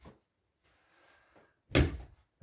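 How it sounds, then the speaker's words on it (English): Soft rustling, then a single solid clunk of a door being opened, close by. "Ooh, door."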